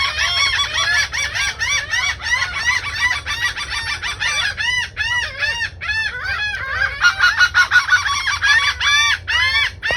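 Laughing gulls call over and over in a Florida Keys bird sanctuary, a dense, loud chorus of overlapping rising and falling squawks and laugh-like cries that continues without pause.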